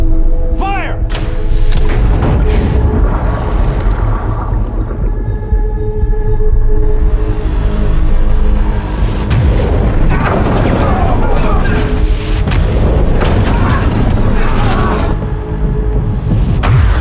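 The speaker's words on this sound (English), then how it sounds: "Tube 1, fire!" A submarine firing a torpedo from tube 1 during a Battle of Midway naval attack, heard as a continuous loud, deep rumbling rush with booming thuds and mechanical churning throughout.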